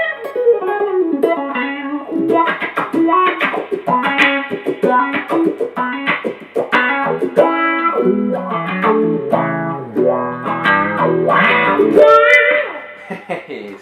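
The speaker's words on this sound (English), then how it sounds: "the most box standard wah-wah pedal" Electric guitar played through a basic standard wah-wah pedal, notes sweeping between muffled and bright tones in a lively, distorted riff.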